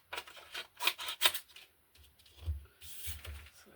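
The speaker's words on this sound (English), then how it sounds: "now I want to use some scissors again" Scissors snip through paper while ephemera cards for a junk journal are being made, giving a few crisp, close cuts in quick bursts with quieter handling rustles between them.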